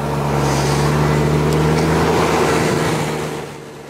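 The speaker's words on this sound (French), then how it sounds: "Et vous allez voir comment ça se passe, comment fonctionne le semoir." A tractor pulling a seed drill while sowing wheat rumbles at a steady, loud, close engine drone with a low tonal hum, fading slightly at the end.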